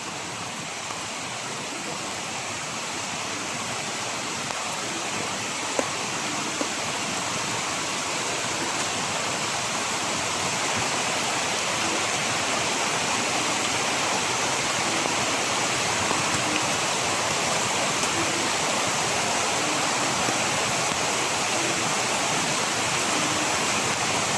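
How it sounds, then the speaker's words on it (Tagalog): Heavy rain pouring down outdoors, a dense, steady roar of wash that holds unchanged throughout, loud and close with no talk. "Grabe yung ulan, oh. Malakas."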